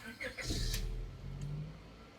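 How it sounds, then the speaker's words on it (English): A car with about 108,748 miles on it cranks and starts, a short starter whir catching into a low idle rumble that settles and runs steadily, moderately close, with a person talking over it. "So if we turn on the car"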